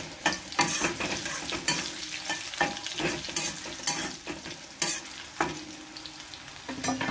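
Asafoetida (hing) fries in hot oil while a spoon stirs it through the pan for Bengali-style banana flower curry: a steady crackling sizzle with sharp clinks and scrapes from the stirring, close and continuous.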